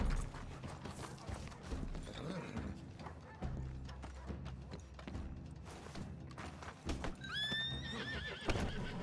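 A horse in the video game Red Dead Redemption 2 gives a loud, rising whinny near the end, preceded by clip-clopping hooves, clanking tack and busy town ambience.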